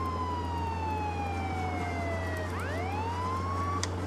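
A police car siren from a border police video game wails in long, steady falling and rising sweeps, loud and continuous over a low engine hum, with no talking.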